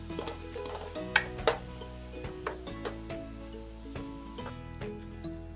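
A big onion frying in a pan, a soft steady sizzle with a few sharp clinks and taps of a utensil against the pan, fairly quiet and without talk.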